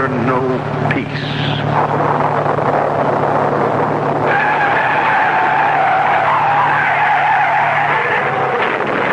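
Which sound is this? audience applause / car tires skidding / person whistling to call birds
car tires skidding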